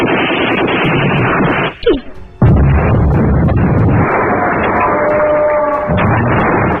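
Loud, close gunfire in a battle between fighters and colonial troops, dense cracking volleys with a brief lull and a sharp whistling streak before the shooting resumes in sustained bursts.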